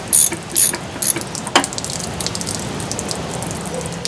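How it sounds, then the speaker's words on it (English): Socket wrench ratcheting loose a 15/16 drain plug on an RV water heater: a few sharp, close metallic clicks in quick bursts, then quieter fumbling. "I use my wrench with a socket in here"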